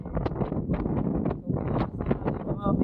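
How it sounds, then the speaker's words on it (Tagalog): Strong wind buffets the microphone at a hilltop viewpoint in San Nicolas, Pangasinan, a steady loud rumbling roar throughout with brief dips, while people talk over it. "Lakas ng hangin dito."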